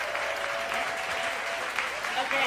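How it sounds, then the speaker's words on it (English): Audience applause at a Seattle queer candidate forum, steady and continuous clapping from a seated crowd, moderately loud and unbroken. "please give a round of applause for our first group of candidates"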